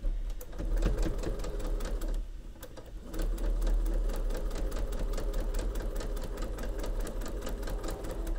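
A sewing machine stitches quilt blocks together for a sewing machine mat, running steadily with a rapid mechanical needle rhythm close up, pausing briefly once before carrying on, with no talk.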